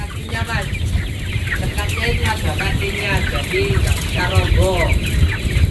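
Chickens cluck and squawk continuously, several birds calling over one another close by, with a steady background hum.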